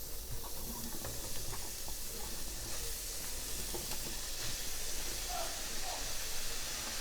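Mushrooms hit a hot pan with a browned crust left from frying sausages, sending up a steady, close sizzle and hiss that runs the whole way with a few faint clinks.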